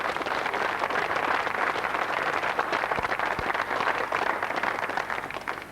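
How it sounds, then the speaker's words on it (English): A studio audience applauds the Blues team on a 1988 Christmas morning television show, with dense, steady clapping that holds for several seconds before tapering off at the end. "Another round of applause for the Blues."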